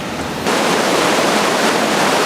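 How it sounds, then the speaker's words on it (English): Waterfall on the Ontonagon River near a dam site, a loud steady roar of rushing water that jumps up in volume after a brief quieter start and stays continuous. "You do not go over this waterfalls."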